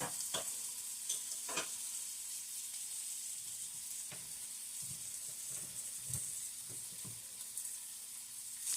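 Potato hash with smoked sausage frying in a pan under a constant soft hiss, punctuated by occasional spatula scrapes and stirring knocks, close and quiet without speech.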